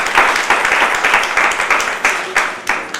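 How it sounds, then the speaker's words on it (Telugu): A crowd applauds at a district Arya Vysya Mahasabha talent awards ceremony held in a jewellery showroom. The clapping is dense and sustained, with repeated swells in loudness over a few seconds. "మనమంతా గట్టిగా చప్పట్లతో వారిని"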